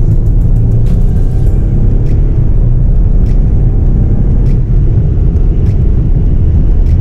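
Cabin sound of a 2019 VW Touareg with a V6 diesel at full throttle in sport mode, a steady heavily muffled low rumble that stays constant and fairly loud with no voices over it.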